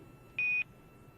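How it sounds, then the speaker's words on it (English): A single steady electronic Quindar tone beep from NASA space station communications, a short clean high note of about a quarter second over a faint hiss of radio background. "those beeps are Quindar tones"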